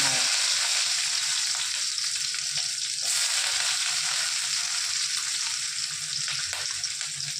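Small onions dropped into hot oil with already crackled mustard and fenugreek seeds, giving a loud, continuous close sizzle with faint stirring scrapes, no voices.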